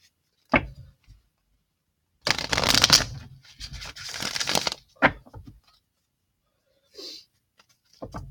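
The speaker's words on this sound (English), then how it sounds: "And now we're going to shuffle these ones." Tarot cards being shuffled in several bursts of riffling and crisp slapping, with short pauses and a few taps between them, close up in a quiet room.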